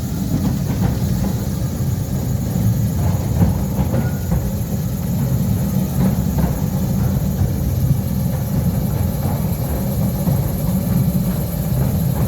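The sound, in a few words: Mail Rail battery electric locomotive train running through tunnel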